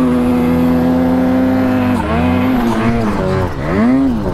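A snowmobile engine drones loud and close at a steady pitch, then bogs, its tone sagging and wavering unevenly as the revs dip and recover.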